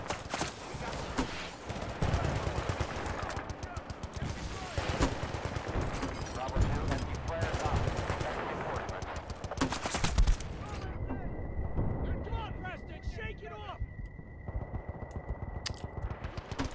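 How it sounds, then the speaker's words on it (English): Heavy .50 caliber machine gun fire in the shooter Battlefield Bad Company 2, sustained rapid bursts that dominate the first ten seconds, then thinning to scattered shots over a quieter stretch with a steady electronic tone. "I just got a whole bunch of 50 cal to my face"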